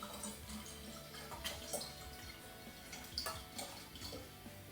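Milk chocolate wine swirls and sloshes in a container, making a soft, continuous liquid wash with small splashes, close and fairly quiet.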